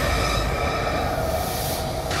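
A train rides along in Outlast Trials, a continuous rumbling rail roll with a steady high tonal whine above it, loud and sustained throughout with no talk.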